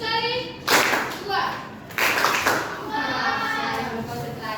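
Hands clapping in a classroom as students respond to a teacher's cue, with a few sharp bursts of clapping against a background of children's voices and chatter.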